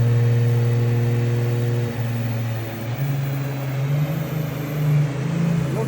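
A 1000-horsepower single-turbo Toyota Supra with an automatic gearbox revs hard and loud nearby, its deep steady drone rising in pitch after a few seconds and holding a sustained roar throughout.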